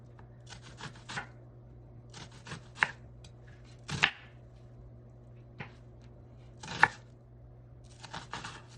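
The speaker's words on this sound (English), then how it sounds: "after you get your onions cut up, just pull them apart like so." A knife chopping purple onions for pickling, heard as a handful of sharp, close cuts and taps in uneven clusters with quiet pauses between and a low steady hum underneath.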